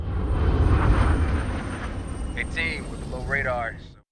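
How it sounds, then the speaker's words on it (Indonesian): An airplane in a film flies at low altitude, its engine a broad, loud rumbling roar that slowly fades, with a voice speaking over it near the end. "pesawat mereka pun terbang dengan ketinggian rendah"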